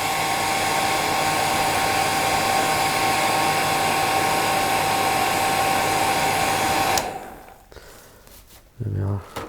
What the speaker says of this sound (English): Now what I like to do is just air the fibre out with the hairdryer.